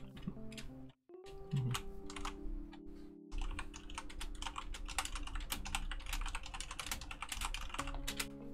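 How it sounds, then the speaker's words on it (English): Steady stream of computer keyboard typing, with rapid clustered key clicks nearly throughout and a brief pause near the start, set against a continuous low hum of game background sound. "I'm just typing something."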